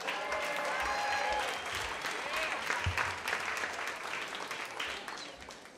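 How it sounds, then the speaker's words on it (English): An audience at a live storytelling slam applauds, a sustained round of clapping and crowd noise that stays strong before easing slightly toward the end, with faint voices mixed in. "Big round of applause for Claudia."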